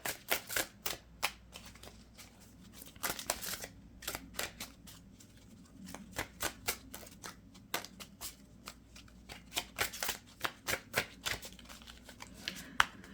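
Oracle cards being shuffled for a tarot reading, a steady run of crisp riffling and slapping bursts in quick irregular clusters, close and clear with no talking.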